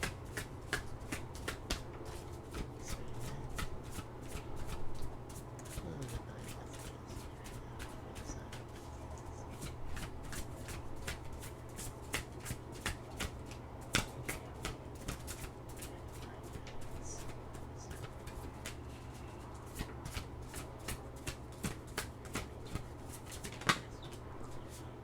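A deck of oracle cards is shuffled again and again, close and soft, in a continuous run of quick riffling flutters and light slaps that lasts the whole stretch.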